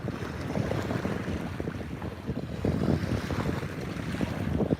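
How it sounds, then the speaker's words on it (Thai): Waves and wind along a sea shore form a steady, full-bodied roar that swells slightly in places and runs unbroken throughout, with no voices. "บรรยากาศทะเลจักน้อยนึง"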